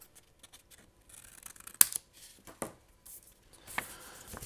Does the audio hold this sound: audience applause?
no